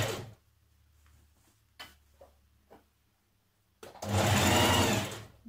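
A sewing machine stitches along a shirt cuff seam in a short burst of rapid, close mechanical whirring near the end. It follows an initial brief run and several quiet ticks and clicks of handling.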